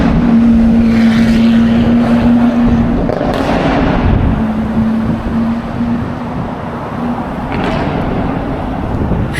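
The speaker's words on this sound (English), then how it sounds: "Liberty Walk Aventador SV" A Liberty Walk Lamborghini Aventador SV supercar passes on a Tokyo street with a loud, steady engine roar and droning tone that shifts in pitch, heavy and close, with broadband traffic noise around it.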